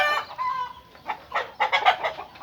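Chickens and a rooster on a Thai chicken breeding farm cluck and call in short bursts, with several overlapping squawks growing louder toward the end, close by and with no talk.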